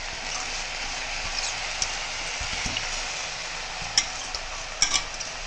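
Onion and drumstick leaves sauté in a pan with a soft, steady sizzle and hiss, broken by a few sharp clicks of a spatula stirring near the end; no one talks.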